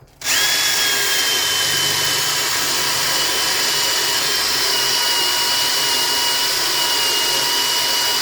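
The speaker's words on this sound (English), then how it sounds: "Drill another hole up." A power drill starts abruptly and whines steadily at high speed, drilling a hole in steel on a boat, close and loud, grinding continuously for several seconds without pause.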